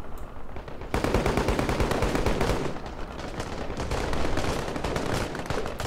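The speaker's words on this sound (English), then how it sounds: "they're laying down some oppressive machine gun fire right there" Machine guns rattle nonstop in a video game convoy-ambush battle set in a post-apocalyptic 2066, with dense, rapid automatic fire and overlapping shots that stay loud and continuous throughout.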